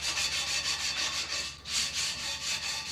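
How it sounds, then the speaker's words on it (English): Sandpaper rubs back and forth on a copper pipe, sanding off old solder and bare copper, in a steady rhythmic scrubbing, close and continuous with one brief pause. "I'm sanding the pre-existing solder that's on it as well as the bare copper"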